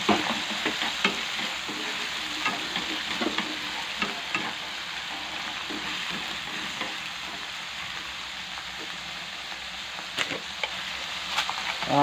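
Diced tomatoes sizzle in a pan for a braised river fish sauce, a continuous crackling fry close by with occasional stirring taps and scrapes and no voices.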